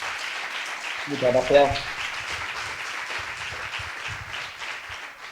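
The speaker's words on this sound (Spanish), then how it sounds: "un fuerte aplauso para Álvaro" Moderate applause from an audience at a motivational talk, a soft continuous patter of clapping while someone briefly speaks over it partway through.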